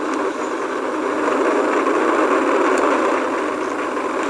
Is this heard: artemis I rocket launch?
yes